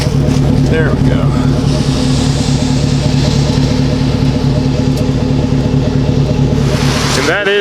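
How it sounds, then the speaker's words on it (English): Chevrolet Silverado pickup with a newly fitted aftermarket exhaust idling, a steady, close, deep low rumble held throughout, with a voice talking over it. "It's chilling here at idle right now. It has a nice low but deep, kind of actually like a lopey sound."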